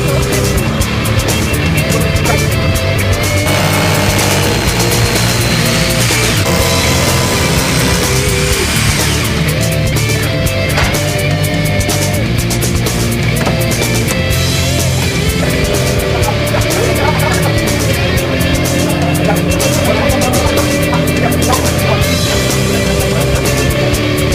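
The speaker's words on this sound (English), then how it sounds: "We'll need to unload the tank with a forklift off of the truck." A forklift unloading a large cylinder aquarium tank off a truck outside a coral sculpture manufacturer, a loud continuous engine drone with mechanical whine and clatter running throughout.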